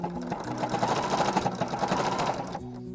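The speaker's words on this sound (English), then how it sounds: "So I'm just going to sew as close as I can to the edge." A sewing machine runs steadily, sewing a short back stitch along the edge of a scene-style hair bow, with a dense mechanical whir that stops abruptly near the end, leaving faint hum.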